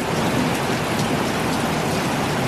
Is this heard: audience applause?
no